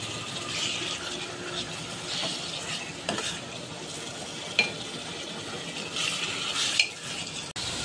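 Chicken is stirred in a handi pot over the flame, with a steady sizzle of frying and close scraping stirs and occasional sharp clinks of the spoon against the pot.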